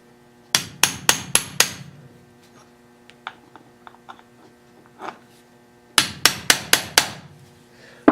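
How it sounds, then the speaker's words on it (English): Transfer punches hammered into wood: a quick run of five sharp metal-on-punch strikes, a pause filled with faint scattered taps and clinks, then another burst of five loud, evenly spaced blows, close and clear with no talk. "Normally I don't hammer my transfer punches in,"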